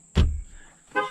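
Ford F150 horn gives two brief honks as the alarm triggers from a light tap, a loud close blast followed by a softer second toot under a faint steady tone.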